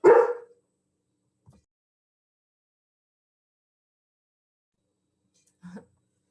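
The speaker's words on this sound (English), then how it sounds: "my dog is barking at nothing" A single sharp dog bark right at the start, then near silence with a faint brief sound and a second softer bark-like burst near the end.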